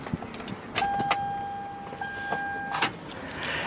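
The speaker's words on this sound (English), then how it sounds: "Bring the automatic driver's side window back up." A 2012 Toyota Highlander SE's automatic driver's-side power window closes, giving a steady motor whine between a few sharp clicks and thumps, close and fairly quiet inside the vehicle.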